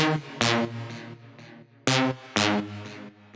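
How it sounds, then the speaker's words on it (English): A detuned, attacky saw pluck lead synth made in Serum for deep house plays bright stabbed notes in a repeating rhythmic phrase, loud and upfront with no voices. "It's a really detuned and attacky saw pluck lead thing."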